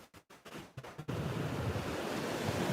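Ocean surf roars steadily onto a beach after a second of gusty, broken wind buffeting, the wash of breaking waves then filling the sound continuously and fairly loud.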